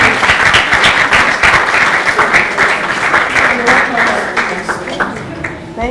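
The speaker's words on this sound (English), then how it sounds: "Keep clapping until she gets here." Audience applause at the ENGINE II closeout ceremony, loud crisp clapping from a crowd that carries steadily for several seconds with a voice speaking over it, thinning slightly toward the end.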